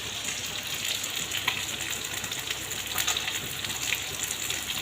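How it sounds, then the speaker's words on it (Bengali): Fish coated in red chilli powder and turmeric sizzles steadily in hot oil, a dense, even crackling hiss that holds close and loud throughout with small pops and no talk. "গরম তেলের মধ্যে দিয়ে দিচ্ছি।"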